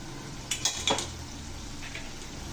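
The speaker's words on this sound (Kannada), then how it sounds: "ಲೋ ಫ್ಲೇಮಲ್ಲೇ ಫ್ರೈ ಮಾಡಬೇಕು." Coarsely ground spice masala frying on low flame in a pan for pepper rasam, a steady close sizzle with a few sharp stirring scrapes and clinks early on, no voices.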